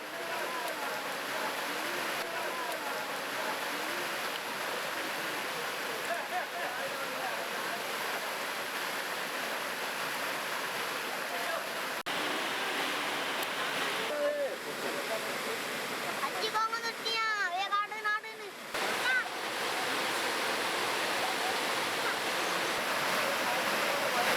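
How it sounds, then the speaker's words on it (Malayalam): Clear natural spring water flows in a steady, continuous rush, close and fairly loud throughout, with a brief voice-like warble rising over it near the end. "പ്രകൃതിയിൽ നിന്നും സുന്ദരമായി ഒഴുകുന്ന ഒരു തെളിനീരുറവ"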